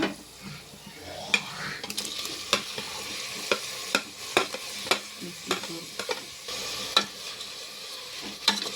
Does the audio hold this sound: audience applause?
no